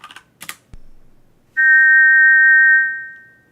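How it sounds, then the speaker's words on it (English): A shiny silver whistle blown once in King's Quest IV: a single loud, steady tweet held for over a second, then fading, after a few soft clicks and taps. "You put the shiny silver whistle to your lips and forcefully blow into it, producing a loud tweet."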